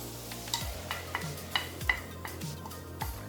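Chopped onion sizzles in local olive oil in a pan while being stirred, a soft steady frying hiss broken by a few scraping strokes of a utensil, with no talking.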